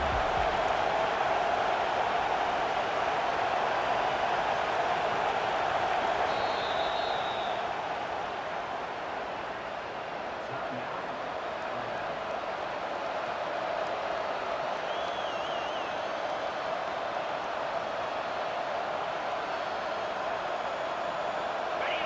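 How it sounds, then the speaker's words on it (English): A football stadium crowd at an Alabama versus Michigan game, a steady, dense roar of many voices sustained for over twenty seconds with no letup, no separate talk standing out. "The roar of the crowd trying to fuel this defense to keep them pinned in their own end."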